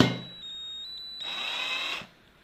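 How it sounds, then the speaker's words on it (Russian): A power drill bores a small hole into an angle grinder's bearing housing: a brief high whine, then a louder grinding burst of about a second as the bit cuts, stopping abruptly. "мы должны просверлить здесь небольшое отверстие, прямо вот здесь"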